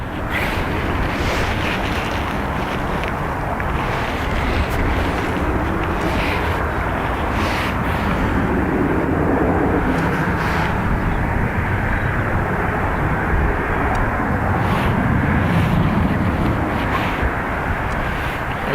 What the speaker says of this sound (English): Ryanair off to Newcastle.